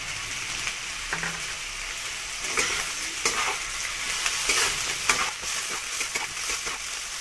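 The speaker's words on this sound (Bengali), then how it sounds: "এবার এটাকে ভেজে নেব। এবার আমি দিয়ে দিচ্ছি ছোলা।" Chickpeas frying in a pan for a gourd curry while a spoon stirs them, giving a continuous crackling sizzle with repeated scraping strokes throughout, close by and fairly loud, with no voices.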